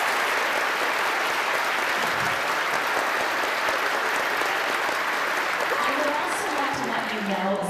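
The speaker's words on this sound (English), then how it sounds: "So will you give those people a round of applause?" An audience at a 3rd and 4th grade school concert claps steadily and densely, a sustained wash of applause that carries on throughout with a few louder claps near the end.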